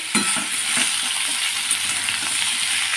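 Pumpkin frying in hot oil tempered with black cumin and dried chilli, a loud, dense, close sizzle that holds steady throughout, with no talking.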